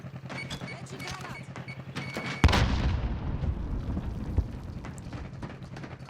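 A grenade explodes in the video game Call of Duty: Warzone, one sudden loud boom with a rumbling tail that fades over a few seconds, preceded by someone talking.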